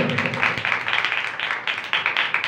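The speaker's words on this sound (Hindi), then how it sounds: "इसके लिए जोरदार तालियां" At a Sunday church service, a congregation gives a short round of applause, rhythmic clapping in quick bursts that rise and fall, moderately loud and close, with no talking over it.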